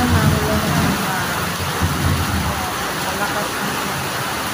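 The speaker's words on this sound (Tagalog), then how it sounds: "Ulan na naman." Heavy rain pours down in a dense, unbroken hiss that is loud and close throughout, with a faint low rumble underneath.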